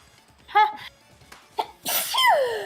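A single loud sneeze comes after a few soft voiced sounds and breaths, close and abrupt, trailing off with a rising squeak.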